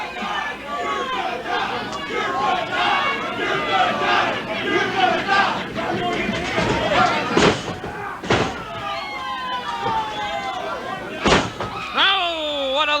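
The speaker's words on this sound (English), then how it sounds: "This crowd has gone mad" A crowd at a wrestling tag team championship match roars and shouts continuously, with sharp slams and thuds from the ring cutting through and a commentator talking over the din.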